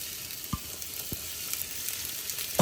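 Onions fry in heated oil with a soft, steady sizzle at moderate distance, broken by a few brief low knocks and a clatter at the end.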